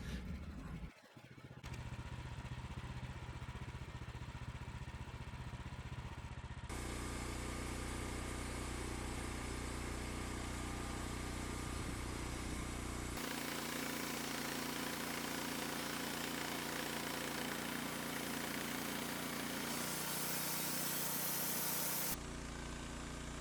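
Woodmizer sawmill cutting a log into lumber, a steady loud engine drone and saw roar that runs continuously, shifting in pitch and load in several stages as the blade travels through the wood.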